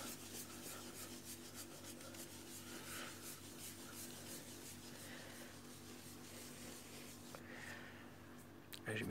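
A Jeep Grand Cherokee WJ headlight lens being sanded by hand, giving a steady, close rasping scrape that runs continuously throughout, with faint background hum and no speech.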